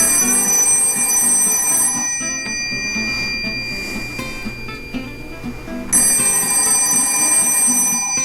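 A telephone bell rings loudly and continuously with a metallic trill, dipping slightly in the middle before returning at full strength, with no voices.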